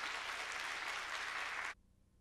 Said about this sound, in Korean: 그래서 우리 목사님을 박수로 모시도록 하겠습니다.